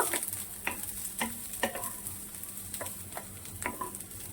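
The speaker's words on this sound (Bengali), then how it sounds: "পেঁয়াজটাকে আমি হালকাই ভাজ বেশি লাল লাল করে ভাজবো না" Onions frying lightly in a pan for a Bengali rohu fish curry give a steady close sizzle, broken by sharp, irregular scrapes and clinks of stirring.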